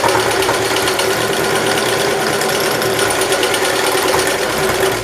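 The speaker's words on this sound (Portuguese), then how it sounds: "Vou passar uma costura aqui. Deixa eu passar de uma vez." A sewing machine runs continuously and loudly while stitching a bag seam, its fast, even mechanical whir close and uninterrupted for the whole stretch.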